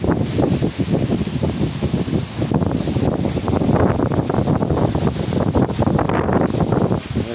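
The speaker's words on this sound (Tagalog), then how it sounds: "Mahangin talaga ito" Strong wind from a typhoon buffets the microphone continuously, a loud rumbling roar with gusty surges throughout and no clear voices.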